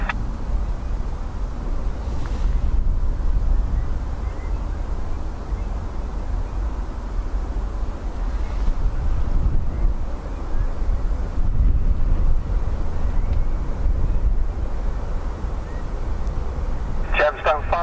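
Gusty wind roars into the microphone at Dublin Airport during blustery arrivals, a continuous loud low rumble that swells and eases, with talk heard under it.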